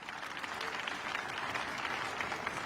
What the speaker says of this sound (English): You can see leaders of those local governments clapping this